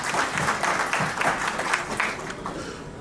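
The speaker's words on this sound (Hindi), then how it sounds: "तालियों से स्वागत।" An audience at a retirement function claps to welcome an additional chief engineer to the stage, a moderate spread of individual claps over a few seconds in a room.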